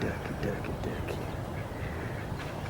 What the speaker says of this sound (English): Get in real close to them duckies.